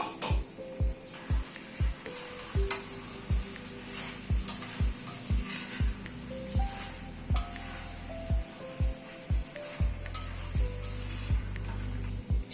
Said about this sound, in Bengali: চিকেনটাকে আরেকটু কষিয়ে নেব।